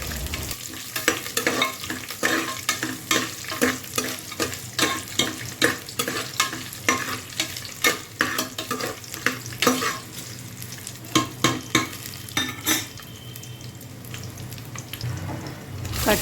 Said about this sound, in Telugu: కొద్దిగా జీడిపప్పు వేసుకొని 2 మినిట్స్ ఫ్రై చేసుకోవాలి